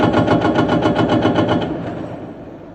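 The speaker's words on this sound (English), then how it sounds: "Thump, thump. Pile driver's busy." A pile driver at a construction site thumps in a rapid, even series of heavy, loud blows that fade out toward the end, with no talk.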